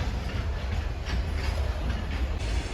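The Darjeeling vintage toy train rolls along with a steady rumbling roar and faint rhythmic clatter of wheels, heard from on board with no talking.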